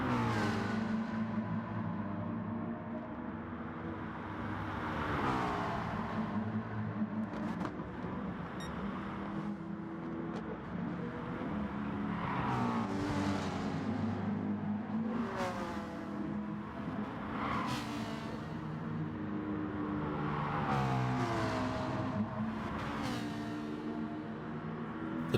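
Race cars in a GT Sport manufacturer series online race, engines revving and rising in pitch in repeated sweeps as cars pass and shift gears, a steady motor drone underneath, fairly faint overall.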